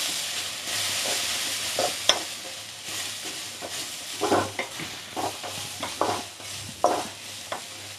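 Cluster beans fried without onion in a pan with turmeric, stirred by a spatula: a steady sizzle under repeated scraping strokes against the pan, close and moderately loud, with no talking.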